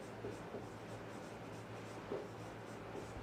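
Chalk or marker writing on a classroom board during a Class 5 maths lesson on LCM, with soft scratchy strokes in short bursts over a steady low hum and no talk.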